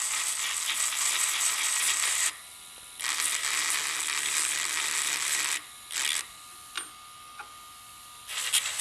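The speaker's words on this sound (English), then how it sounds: "The other thing I can do is I can take a grinding attachment on this Dremel" A Dremel with a grinding attachment grinds burrs off brass tubing, a steady high-pitched whine that runs in several stretches broken by short pauses and brief touches, close and fairly loud.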